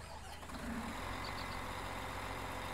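A New Holland Forage Cruiser harvester engine in Farming Simulator 19 fires up and settles into a low, steady diesel idle, heard up close and alone.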